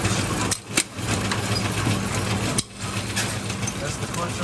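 A Brunswick bowling pinsetter in a home garage alley runs through its cycles with a loud, continuous mechanical rumble, broken by a few sharp clunks and short dips in the din.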